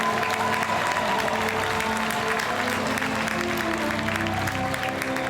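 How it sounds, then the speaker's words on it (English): Outdoor crowd applause for the Arkansas Symphony Orchestra at an Independence Day pops concert on the river, a steady wash of many hands clapping with faint crowd murmur beneath. "One more round of applause for your Arkansas Symphony."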